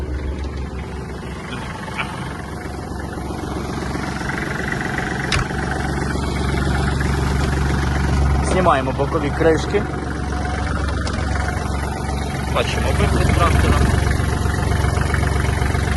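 A warmed-up Kubota GL-260 Japanese mini tractor engine idles steadily and evenly at close range with its side covers off, while someone talks over it.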